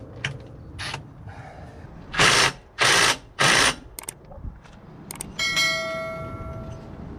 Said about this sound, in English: very scientific way to do about 95 foot-pounds with the impact